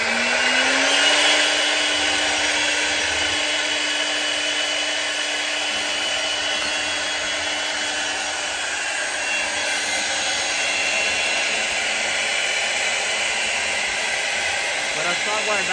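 CNC router machining a magnetic bottle opener: the spindle winds up to a steady, loud whine with a constant hum under broadband cutting noise that runs unbroken throughout, with no talk.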